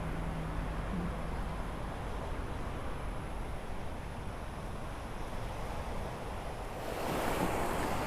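Ocean surf washes steadily onto a beach in Guam, a continuous broad roar of breaking waves with wind buffeting the microphone, swelling louder near the end, with no talking.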